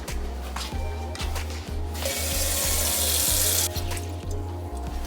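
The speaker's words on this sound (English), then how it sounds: "we're going to put some water in the pot" A kitchen tap runs water into a pot, a steady gush that swells louder and brighter midway before easing back, with a low rhythmic hum underneath, close and alone without talk.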